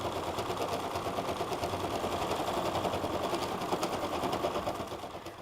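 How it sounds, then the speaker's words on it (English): An embroidery machine stitches a freestanding lace jewelry design with a continuous, dense rapid needle rattle that stays loud and even throughout, then tapers slightly at the end. "We have our machine in here, we have our design loaded, and I'm gonna go ahead and get stitching."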